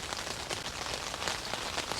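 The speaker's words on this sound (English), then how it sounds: "So I think the rain has picked up again." Steady heavy rain falls during a Swedish summer thunderstorm, a dense continuous hiss of drops on surfaces, even and close throughout with no voices.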